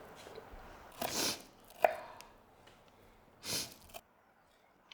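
A knife chops food on a cutting board in a few separate bursts of quick rhythmic cuts, close and fairly quiet, with a sniff between them and stillness afterward.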